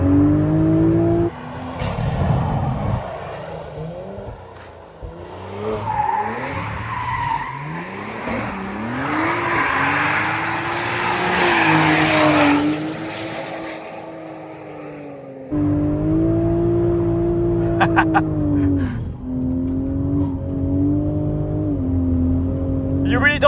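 A BMW Z4 engine rises and falls as the car is pushed hard through second-gear corners, revving up repeatedly with tire squeal and skidding mixed in and a driver talking in the cabin.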